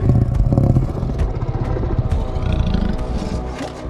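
A zombie tiger in a zombie action film roars loudly and close, a long rumbling growl with rough pulsing texture over clattering action sounds, sustained for several seconds with no talking.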